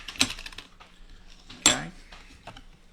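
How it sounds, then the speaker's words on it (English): Chopped green onions are raked off a cutting board into a bowl with a utensil, making a couple of sharp metallic scrapes and clinks with quiet handling in between. "Now let's rake our onions off into this here."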